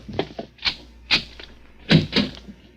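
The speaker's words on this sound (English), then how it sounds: "Open the other door, Joe." A door is opened in a 1943 old-time radio mystery drama, heard as a series of close wooden thunks, knocks and clatters spaced irregularly over a few seconds, with no talking.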